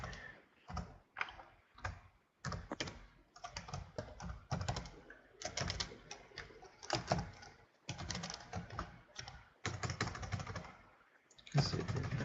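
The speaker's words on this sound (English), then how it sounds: "This tests your typing skills, doesn't it?" Steady bursts of computer keyboard typing during a webinar, a person filling in blanks on a form, with rapid clustered key clicks separated by brief pauses, close and moderately loud with no voices.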